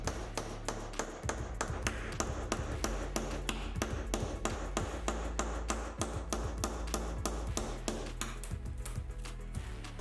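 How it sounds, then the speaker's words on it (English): A hammer strikes a tile again and again to break it out, sharp close taps in a fast, steady rhythm that continues throughout with no voices. "And then still hammering towards the centre"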